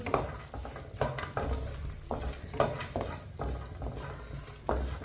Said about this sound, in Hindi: ड्राई फ्रूट को 2 मिनट के लिए भून लेंगे।